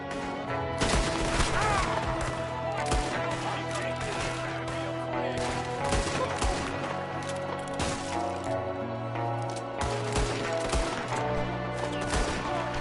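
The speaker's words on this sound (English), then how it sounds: "There's another one shooting from the window." Gunfire rattles through an ambush in Red Dead Redemption 2, with dense volleys of shots cracking loudly and almost continuously over a score of steady music tones.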